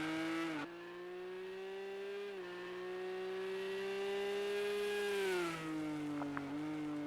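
A race car engine with a flat-six running at Goodwood Festival of Speed, a steady sustained high-pitched drone with slight pitch shifts, heard alone at moderate distance.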